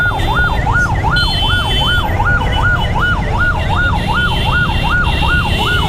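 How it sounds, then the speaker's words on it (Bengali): Ambulance siren wailing loudly and continuously in a steady rising-falling cycle at a road accident scene, close by over dense traffic rumble, with no voices. "একটা অ্যাম্বুলেন্স আসতেছিল উল্টা পথ দিয়ে, ইমার্জেন্সি হইতে"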